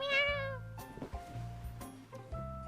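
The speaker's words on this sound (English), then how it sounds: "A cat's meow makes me jump up from the bed." A cat meows in the video game Love and Deepspace, one drawn-out, clear meow right at the start, followed by soft game music with a few light thuds and clicks.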